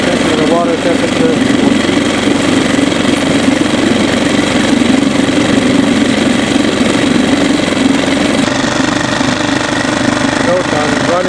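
A Parsun 2.6 outboard motor runs steadily at low throttle, a continuous close, loud buzzing drone with a rough mechanical rattle that holds unchanged for the whole stretch.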